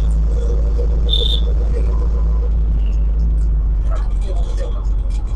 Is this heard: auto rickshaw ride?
yes